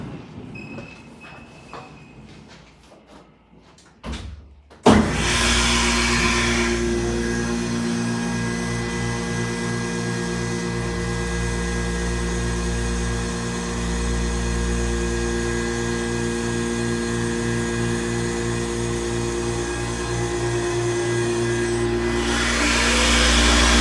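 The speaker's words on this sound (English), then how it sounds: "See the motor room." A hydraulic elevator motor runs steadily in the machine room at the Sugar Sands Hotel, a loud sustained hum with strong low tones that starts abruptly after a quiet stretch and continues unbroken.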